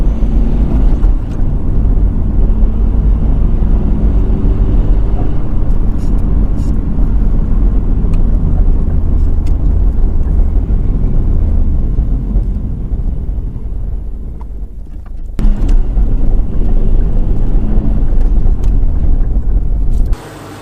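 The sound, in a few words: 2002 Subaru WRX STi Prodrive Edition engine on test drive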